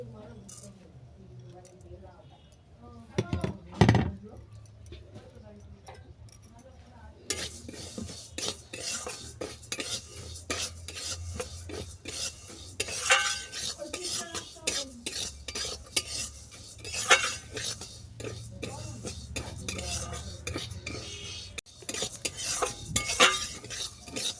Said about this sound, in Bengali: প্রথমে আমি মুগের ডালটাকে শুকনো করার মধ্যে এক মিনিট ভেজে নিচ্ছি